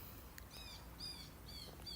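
Blue jays calling outdoors in a garden, imitating a hawk's cry: a few repeated harsh, whistled calls at moderate distance, fairly faint over a steady background hiss.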